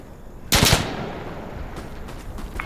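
A short burst of automatic gunfire in the shooter game Insurgency: Sandstorm, a loud close rattle of a few rapid shots that rings out and fades into a quieter background with faint distant reports.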